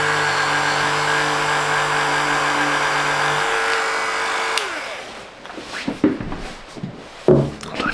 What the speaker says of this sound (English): What I need to do is now drill the holes in those.